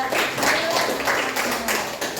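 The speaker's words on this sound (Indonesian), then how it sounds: "Kita berikan tepuk tangan dulu untuk" A physics class applauds during a lesson, with dense, continuous clapping from many hands throughout, loud and close, and some voices mixed in.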